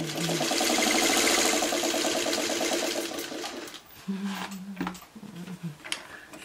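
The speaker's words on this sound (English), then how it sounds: "So now I'm going to sew this together." A sewing machine stitches a paper-pieced Friendship Star quilt block in a rapid, loud, close burst of even ticking, then stops, leaving softer handling noises and scattered short sounds.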